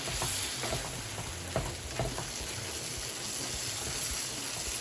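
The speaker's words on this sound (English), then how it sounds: "make sure I stir it around, stir it around," Salt fish frying in a pan sizzles steadily up close while being stirred around, with a few scraping knocks from the utensil over the constant hiss.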